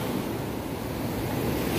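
Ocean surf at Pacar beach in Tulungagung, a rocky coral shore, rolls in as a continuous loud wash mixed with wind rumbling on the microphone, with no voices.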